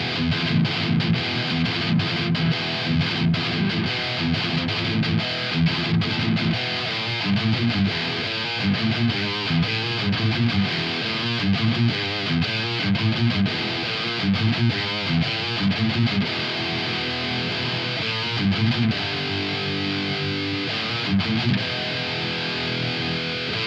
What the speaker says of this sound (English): that's a cool crunchy guitar tone